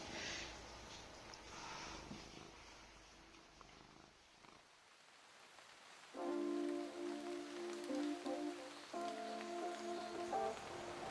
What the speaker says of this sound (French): Le retour chez nous, c'est le retour du quotidien sous un rideau de pluie.